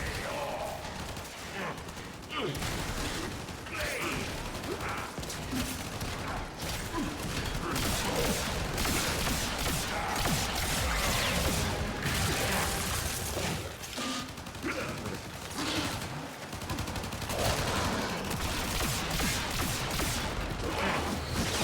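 Steady video-game gunfire rattles on for the whole stretch, dense repeated shots and mechanical clatter blending into a loud continuous barrage with brief dips, no talk heard.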